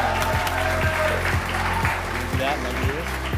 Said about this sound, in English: Give a round of applause to Joyson.